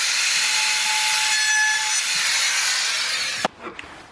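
A jig guides a cutter through wood to rout a hinge mortise, giving a loud, steady high-pitched machine whine that runs unbroken for several seconds and then cuts off abruptly, leaving a few faint knocks.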